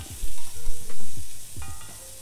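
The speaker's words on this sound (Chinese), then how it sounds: "虾仁下锅随便炒炒" Shrimp stir-fry in hot oil with chopped scallion and minced garlic, a loud close sizzle broken by the scrape and clatter of a spatula tossing the wok in quick bursts.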